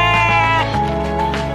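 A female goat at a livestock farm bleats in one long, loud wavering call, close to the microphone, with a second, lower bleat following right after.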